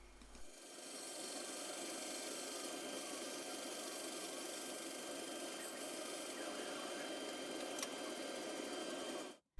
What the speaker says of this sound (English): it's just cut close to the line on the bandsaw to get nearly the finished profile